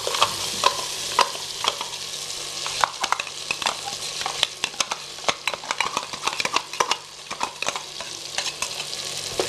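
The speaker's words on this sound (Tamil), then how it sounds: "இப்போ நம்ம இஞ்சி பூண்டு பேஸ்ட்டு ஆட் பண்ணுறோம்" Ginger garlic paste frying with tomatoes in a clay pot, a soft continuous sizzle broken by repeated scraping and stirring strokes of a spoon against the pot, close and fairly loud.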